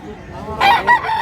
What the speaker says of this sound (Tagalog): Manok diri mga idol